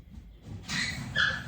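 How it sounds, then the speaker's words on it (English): Dog barking or yipping in a home kitchen, a couple of short, fairly loud yelps in the last second over low room noise. "The dog's barking."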